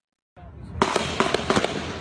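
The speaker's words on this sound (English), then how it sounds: "the chilling moment that rapid gunfire broke out in Alexandria this morning" Rapid gunfire breaking out in Alexandria, recorded on a cell phone: a burst of sharp, closely spaced cracks and bangs, loud and near, following a short stretch of background noise.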